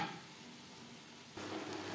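Mutton curry with potatoes being stirred in a pan over high to medium flame, a steady sizzle with soft scraping that grows louder partway through, no voices.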